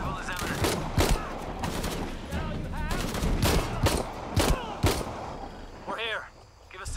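Gunfire in the video game Shadow of the Tomb Raider, a fast string of sharp shots in bursts, loud and close, with a voice exclaiming over it.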